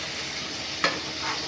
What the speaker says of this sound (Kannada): ಟೊಮೆಟೊ ಎಲ್ಲ ಪ್ಯಾನ್ಗೆ ಹಾಕ್ತಾ ಇದ್ದಾನೆ ಪ್ರಶೀಲ್.